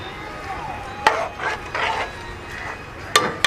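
Dried kasuri methi is stirred into a chicken tikka biryani marinade, with soft scraping and rubbing strokes of a spoon, punctuated by a couple of sharp knocks against the vessel, close and moderately loud.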